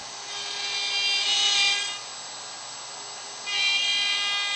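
Router with a straight bit cutting through-dovetail pins in wood on a dovetail jig, a loud close whine with two distinct cutting passes separated by a quieter idle.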